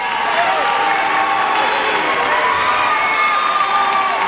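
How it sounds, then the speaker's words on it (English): Paulsboro high school wrestling fans at a 2003 district finals bout roar and applaud steadily for their 140-pound wrestler, a dense, continuous crowd of cheers and clapping with shouts mixed in, loud and close throughout. "As they cheer on Pat Byrne."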